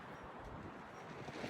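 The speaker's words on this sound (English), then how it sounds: "So as you can tell from the wind, it's pretty windy out today." Gusty outdoor wind buffets the microphone on a cold winter day before a snowstorm, a continuous rough rumble with no voices.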